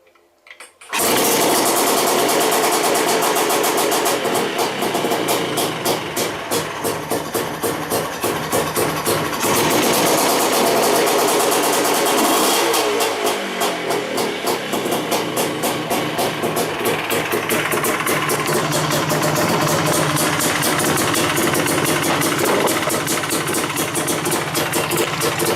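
A two-stroke engine in a workshop fires up after a brief pause, then holds a steady, loud, buzzy idle with slight throttle wavers for over twenty seconds, close by and alone.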